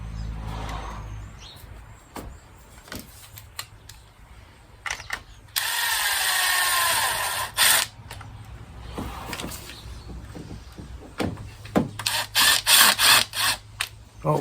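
A power driver spins a screw into a coil pack on a 2004 Buick LeSabre, two separate bursts of high whirring roughly two seconds each, set among scattered clicks and clanks of tools in a garage.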